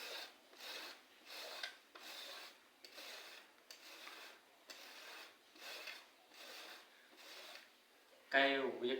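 Cassava is scraped by hand in repeated rasping strokes, about eight close, rhythmic scrapes in a quiet setting, ending in a brief louder sound.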